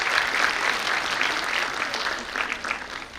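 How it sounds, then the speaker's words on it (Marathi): A school audience at the Camp Education Society annual day claps for young students, a dense, steady burst of applause that carries on throughout without fading. "आमच्या बालचमूंसाठी जोरदार टाळ्या होऊ द्या"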